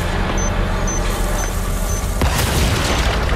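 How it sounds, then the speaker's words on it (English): A thrown bomb in Resident Evil 4 Remake bursts with a heavy boom partway through, its deep blast swelling over a dense, rumbling game soundscape with faint high beeps beforehand. "they're throwing bombs now"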